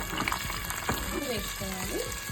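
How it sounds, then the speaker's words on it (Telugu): Peanuts, chana dal and urad dal frying in hot oil for a pulihora tempering, a steady close sizzle and crackle with a voice speaking over it. "తాలింపుకి ఆయిల్ పోసుకొని పల్లీలు, శనగపప్పు, మినపప్పు వేయాలి."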